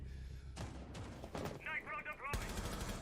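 Gunshots in Rainbow Six Siege, a few sharp cracks and short bursts in quick succession over a low game hum, close and fairly loud.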